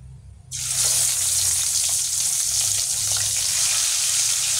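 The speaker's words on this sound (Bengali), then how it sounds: "তিনটে করে মাছগুলো ভাজবো, একসাথে সব মাছ দেবো না।" Chitol fish dropped into hot oil, bursting into a loud, steady, close crackling sizzle that holds strong after a brief quiet start.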